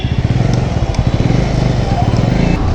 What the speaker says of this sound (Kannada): ಇವಾಗ NS ಓಡಿಸ್ತಾ ಇದ್ದೀನಿ